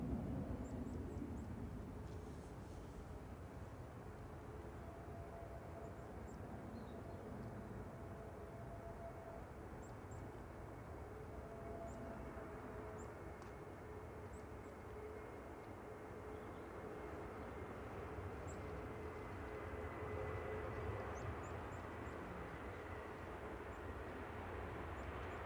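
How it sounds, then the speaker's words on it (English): EasyJet Airbus A321 arriving from Lisbon to land at Manchester Airport, a faint, distant jet roar holding steady throughout with no voices. "EasyJet just about to touch down from Lisbon."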